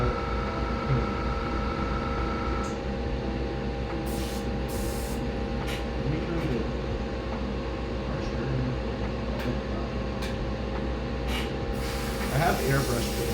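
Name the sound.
airbrush spraying paint on a scale model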